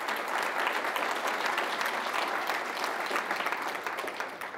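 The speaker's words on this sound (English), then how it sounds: "yes, give her a applause." Sustained applause from an audience at a Wall of Fame induction ceremony for a coach, dense steady clapping from many hands that fills the whole stretch and fades slightly at the end, with no talking.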